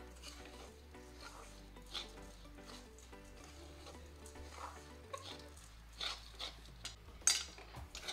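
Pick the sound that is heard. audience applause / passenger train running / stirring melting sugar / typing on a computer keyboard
stirring melting sugar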